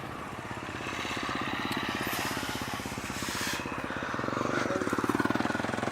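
Motorcycles ride past on a snowy off-road mountain trail, their engines thrumming in a steady, rapid pulse that grows louder and more rattling toward the end as one draws near.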